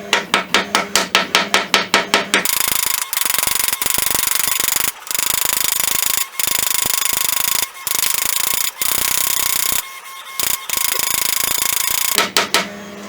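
Sharp metal-on-metal hammer blows fitting the metal nose cap on a Kibler Colonial flintlock rifle kit, with a quick rhythmic burst of close, loud taps at the start and end and a sustained grinding, ratcheting mechanical noise between them.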